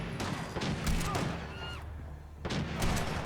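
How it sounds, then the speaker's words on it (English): Gunshots ring out from the Minutemen in a Fallout-style arena fight against Raiders, a burst of sharp cracks and thuds, a brief lull, then another volley, with a commentator's voice partly underneath. "Opening shots from the Minutemen"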